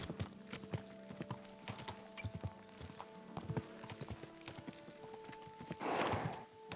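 Horse hooves clip-clop in a steady walking rhythm in Kingdom Come Deliverance 2, close and moderate in volume against a faint game ambience, ending in a brief rush of noise.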